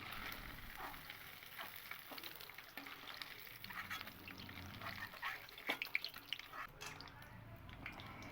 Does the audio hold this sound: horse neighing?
no